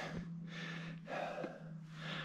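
A cyclist climbing at high altitude on Colorado's Juniper Pass breathes heavily, with two or three loud, close gasping breaths against a steady low hum.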